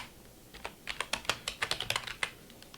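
Keystrokes on a computer keyboard as a name is typed for a new API key, a quick irregular run of crisp clicks, close and fairly quiet, with no talking.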